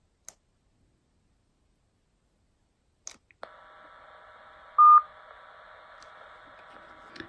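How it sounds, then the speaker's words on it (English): An Anytone AT-778UV radio microphone is keyed to open a repeater: a few sharp clicks, then a steady hiss-like carrier with a brief loud tone burst in the middle, ending with another click. "if I now key up the microphone and send a blank key, I should be able to open the repeater."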